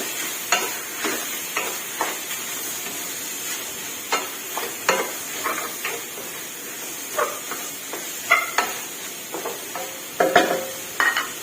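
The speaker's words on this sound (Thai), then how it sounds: "รวนไก่ให้สุกเลยค่ะ" Chicken sizzles steadily in a hot pan while a utensil scrapes and stirs in repeated clanks, close and busy, with no talking.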